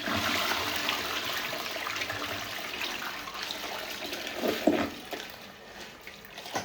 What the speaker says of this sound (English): So I'm gonna flush the toilet.